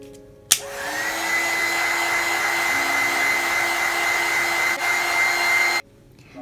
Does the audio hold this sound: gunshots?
no